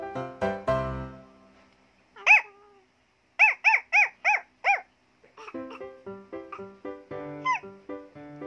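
A dog gives a run of high, squeaky whimpers and yelps, several in quick succession, close by.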